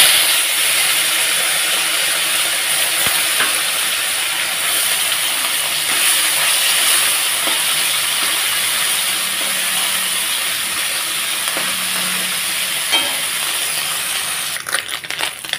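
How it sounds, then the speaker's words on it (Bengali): Small puti fish fry in hot oil in a kadai, a loud, steady, hissing sizzle that holds for about fifteen seconds, with a few light clinks near the end. "তো এখন মাছগুলো ছেড়ে দেবো।"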